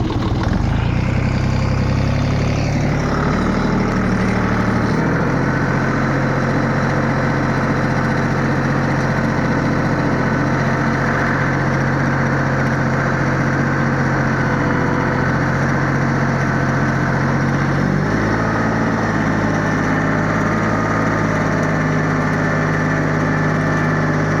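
A Dongfeng 244 tractor pulling a homemade plow runs steadily and loudly close by, a continuous engine drone whose pitch dips slightly around five seconds in and again near eighteen seconds.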